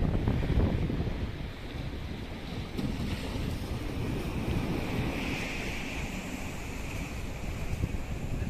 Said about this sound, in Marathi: आणि ती बघा लाटा बघा